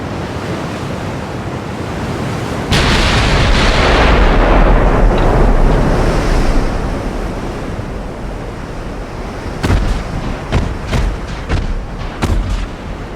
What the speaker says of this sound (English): So the secondaries are now opening up from the Arizona.